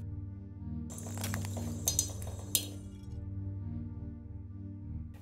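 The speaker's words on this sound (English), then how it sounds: "there are pings and so on as bits fly off" Hot glass plunged into water cracks and shatters, giving a cluster of sharp bright pings and clinks over a low steady hum, with three distinct louder snaps near the middle before the sound settles back to the hum.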